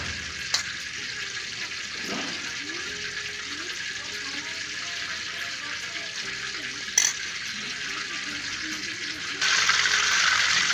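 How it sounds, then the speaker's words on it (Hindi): Sliced potato chips frying in a pan with spices and a little water, a steady close sizzle with occasional clinks and stirring, swelling louder near the end. "ये चिप्स मेरे फ्राई हो रहे हैं।"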